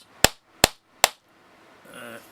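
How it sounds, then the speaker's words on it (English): Three sharp, evenly spaced hammer blows seat pins into an HP41C calculator module connector, each a crisp metallic strike with a quick decay, followed by a faint rustle. "You can feel that as you hammer it."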